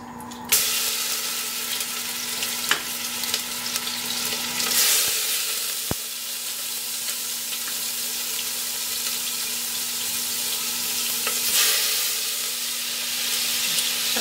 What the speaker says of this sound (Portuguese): Tô esperando ela derreter e esquentar aqui pra gente selar a costelinha